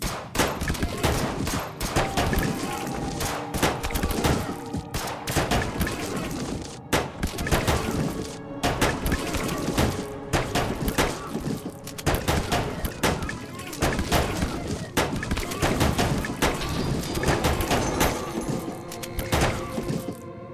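Sniper rifles and automatic machine guns fire nonstop in the zombie strategy game They Are Billions, rapid overlapping gunshots and thuds forming a loud, continuous barrage over game music.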